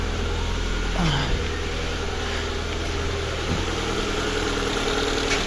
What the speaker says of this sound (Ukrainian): Працює, не троїть.